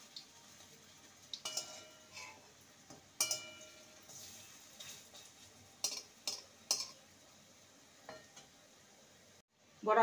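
Gram-flour pumpkin fritters fry in oil with a quiet, steady sizzle, broken by sporadic clinks and scrapes of a utensil turning them in the pan.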